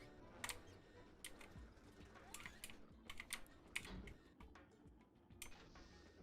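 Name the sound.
computer keyboard typing while playing WALL-E on PC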